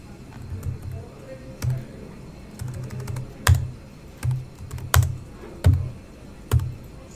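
Someone types on a computer keyboard in uneven bursts, with soft close key taps and a few louder clacks, and nobody speaks over it.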